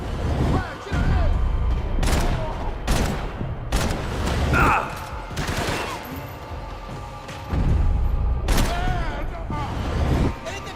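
Bursts of gunfire in the video game Max Payne 3, several loud volleys and rapid shots in clusters with brief gaps, mixed with shouting voices and game effects.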